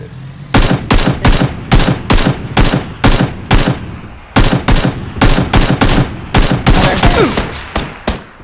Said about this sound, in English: Are they shooting at us?